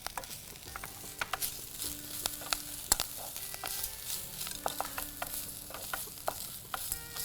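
Curry leaves sautéing in a pan, a continuous sizzle with frequent sharp crackles and pops and occasional scraping stirs, close and alone without any voice.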